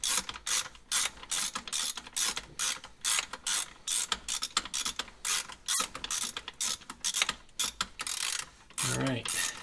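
Rapid ratcheting clicks from a socket wrench turning 15 mm six-point bolts on a 1997 Ford Thunderbird Super Coupe, close and continuous in bursts with brief pauses throughout.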